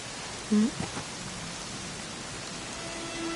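Steady rain hisses throughout, broad and even, with a short voiced sound near the start and no clear speech, in the video game Dragon Quest XI.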